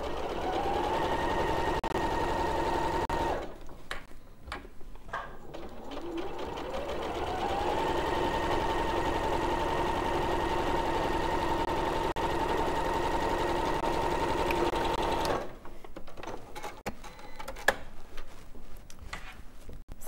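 An electric sewing machine stitches a striped stuffed toy, running in a steady rapid whir for a few seconds, pausing with clicks and handling noise, then running again in a longer, even burst before stopping for more rattling adjustments.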